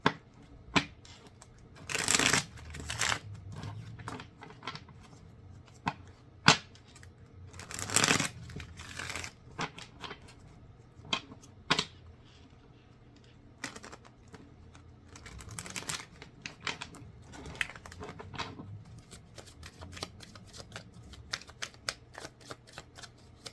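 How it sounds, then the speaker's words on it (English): Tarot cards being shuffled repeatedly up close, with bursts of riffling and soft slaps and crinkles, steady handling throughout with no talking. "let me get a couple shuffles"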